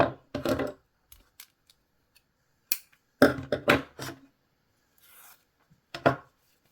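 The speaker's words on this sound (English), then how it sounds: "Now you're going to cut your yarn." Sharp scissors snip through crochet yarn, a few quick close cuts in separate bursts with quiet pauses between them.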